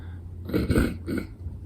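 A single close throat clearing from a congested person, two rough raspy bursts in quick succession over a low steady hum.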